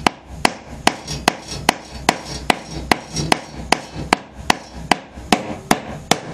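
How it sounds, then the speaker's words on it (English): A ball peen hammer taps in a steady rhythm of about two sharp, ringing strikes per second, close and clear, with no talking over them. "a little touch with the ball peen hammer"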